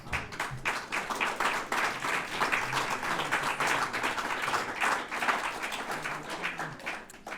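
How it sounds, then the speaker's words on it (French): Audience applause at a public conference talk, a dense, steady wash of many hands clapping that carries on without a break and stays loud throughout. "on m'applaudit parce que j'ai lu de Maistre"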